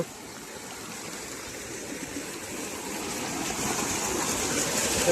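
Rushing stream water, swollen by heavy rain, roars steadily and grows slightly louder, a full, continuous churn with no voices.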